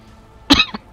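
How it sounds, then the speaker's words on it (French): A short, sharp cough burst followed by a smaller second cough, close up and isolated, from a man playing Warhammer 40K Battlesector. "Petite toux."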